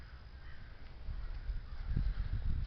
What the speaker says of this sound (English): Sound like those crows.